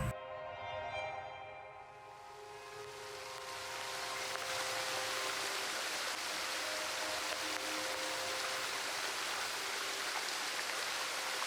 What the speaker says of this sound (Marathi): त्या धबधब्याच्या अखंड प्रवाहात विरघळून गेले